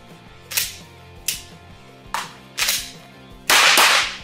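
Five sharp gunshots during a tap, rack and bang malfunction clearance drill at a shooting range, spaced irregularly with the last one loudest and longest ringing; no talking.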